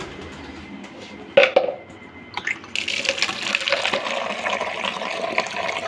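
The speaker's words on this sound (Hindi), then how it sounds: "अभी हम अपने पौधों को भी पानी देते हैं।" Water is poured onto household plants in a gallery, a brief splash followed by a steady, fairly close stream of running and trickling water.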